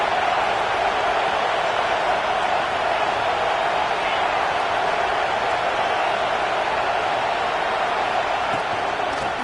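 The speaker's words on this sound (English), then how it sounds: "This crowd bringing the energy and noise early." A video-game stadium crowd at a Tennessee versus Alabama college football game keeps up a constant, dense roar at even loudness throughout, with no distinct cheers standing out.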